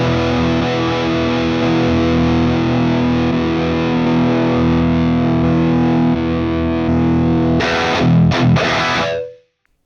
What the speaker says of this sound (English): we can switch the channel inside the amp block and having a completely gapless switch.